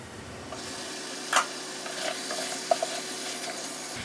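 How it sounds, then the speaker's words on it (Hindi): Chicken and tomatoes cooking covered in a pot over low heat for biryani, a soft steady sizzle with a faint hiss and a couple of small clinks, no voices. "इसको 2 मिनट के लिए हल्की आंच पे हम कवर करके पकाएंगे, ताकि टमाटर जो हमारे गल जाए और चिकन भी जो है वो भी हाफ डन हो जाए"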